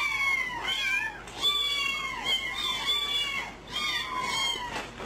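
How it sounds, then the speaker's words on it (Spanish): Kittens meow repeatedly, several high, wavering cries following one another in a close, fairly loud series with short pauses. "¡Son gatitos! Confirmamos, son gatitos."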